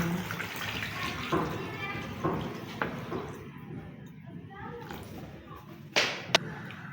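Water runs steadily into a pot holding about a kilogram of potatoes, a continuous splashing pour that tapers off, followed by a few sharp knocks of the pot or lid.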